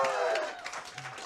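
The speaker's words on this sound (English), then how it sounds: "can we just give a round of applause just for Alex?" A small audience at a live band night in a recording studio venue breaks into brief applause, a short burst of scattered clapping that follows a speaking voice.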